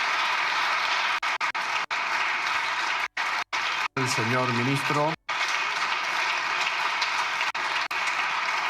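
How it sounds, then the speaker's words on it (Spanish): Members of the Spanish parliament applaud in a long, dense burst of clapping that briefly drops out as a voice announces the minister, then the ovation resumes. "¿Sigue siendo aplaudida Cayetana?"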